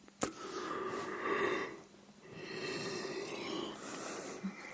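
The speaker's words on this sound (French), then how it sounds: "je le laisserai le bâillement parce que le bâillement il est contagieux" A long, breathy yawn in a quiet whispering setting, drawn out with a wheezy, airy rise and fall and a brief pause partway through, close to the microphone.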